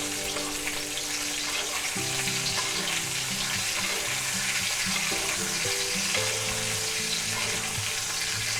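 A chuck eye steak sizzles and spits steadily in a hot pan as it is basted, a continuous close frying crackle with no voices.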